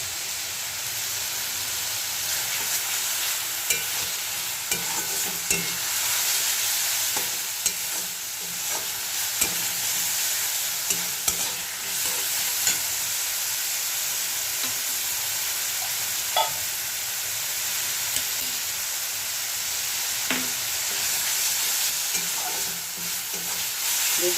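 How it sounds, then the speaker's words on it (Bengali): Spice masala sautéed in oil in a pan for an egg omelette curry, with a loud continuous sizzle and occasional spoon scrapes and taps as it is stirred. "ভালো করে এটাকে কষিয়ে নিতে হবে দেখুন মশলা থেকে তেল ছেড়ে দিয়েছে"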